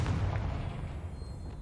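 A Confringo fire spell bursts in Hogwarts Legacy, a low booming blast at the start that settles into a rumbling tail, fairly quiet and alone.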